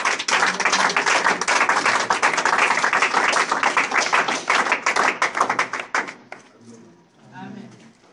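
A church congregation applauds to acclaim God, dense broadband clapping filling about six seconds at steady loudness, then thinning out as a voice begins speaking near the end.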